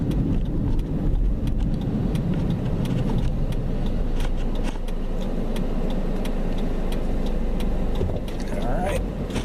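A 2017 Jeep Patriot drives and accelerates on an interstate highway, its engine and road noise forming a steady, loud cabin rumble with faint clicks, while people talk over it.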